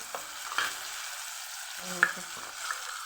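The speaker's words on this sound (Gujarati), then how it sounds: "અહીંયા આપણે ટમેટું સુધાર્યું નાખી દઈશું" Chopped tomato added to hot oil for a Kathiyawadi cauliflower and potato curry gives a soft, steady sizzle, with a few sharp clinks of stirring rising above the frying.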